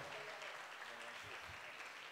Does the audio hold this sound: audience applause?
yes